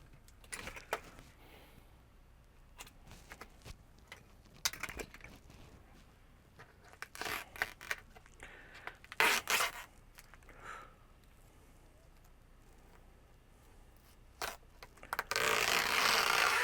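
Scissors cut packing tape on the box of a Samsung UE48H6400 TV, heard as scattered close snips, rustles and scraping handling noises in a quiet room, with a louder burst of tearing near the end.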